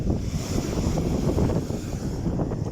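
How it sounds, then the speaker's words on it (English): Strong wind buffets the microphone on a UK shoreline during shore fishing, a loud continuous roar with surf washing underneath, and no voices. "The wind's shocking, but it's only going to get stronger."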